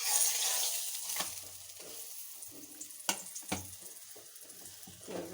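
A paratha fries in pure mustard oil with a steady, bright sizzle. Occasional scrapes and knocks from turning it break through, and a louder crackle swells near the end.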